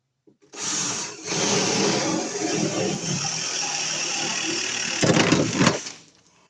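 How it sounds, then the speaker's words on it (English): A power drill whirs steadily for several seconds, close and loud, then bursts of higher grinding as it bites through a hole for an industrial exhaust fan electrical box before winding down. "So now we'll drill a hole through here up above."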